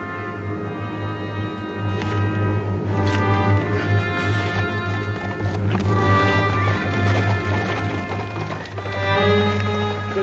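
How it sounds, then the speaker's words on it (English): Horses ride off in a Western drama scene, with rhythmic hoofbeats and clattering steps building over a low musical score, fairly close and continuing throughout. "Both of you on your horses."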